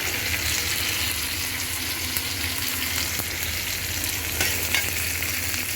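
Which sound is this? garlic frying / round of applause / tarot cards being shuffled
garlic frying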